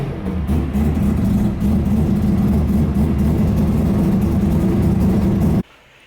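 A three-rotor Mazda FD rotary engine runs on a dyno with a loud, close, deep droning roar that holds steady for several seconds, then cuts off sharply.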